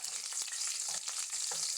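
Seasoning seeds frying in oil in a pan make a close, steady crackling sizzle with small popping bursts, heard on their own with no voices.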